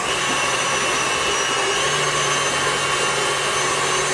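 An electric mixer beats butter into cake batter for funfetti cake pops, giving a steady, unbroken motor whir at even loudness throughout with no talking.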